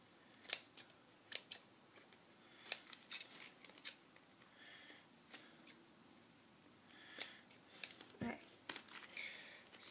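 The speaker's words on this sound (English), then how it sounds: "Just going to cut it off with my scissors." Scissors snip through duct tape repeatedly up close, sharp irregular clicks and cuts with brief pauses, while a voice speaks quietly underneath.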